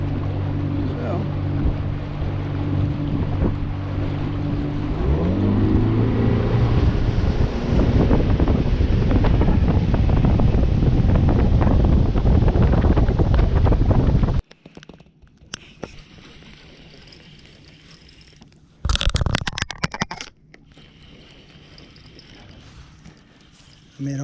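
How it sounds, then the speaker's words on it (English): Loud, steady wind roars across the microphone on a lake while boating with a trolling motor, continuous for about fourteen seconds before dropping to quieter water and breeze, broken by a short rough burst. "The wind's coming this way, so I'm gonna run up the other side of the lake and let the wind help push me."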